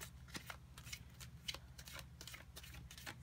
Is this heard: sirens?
no